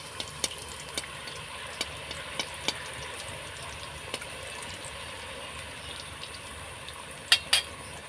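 Flower-shaped pitha deep-fry in hot oil as oil is splashed over them, a soft continuous sizzle with scattered sharp clicks and a couple of louder taps near the end.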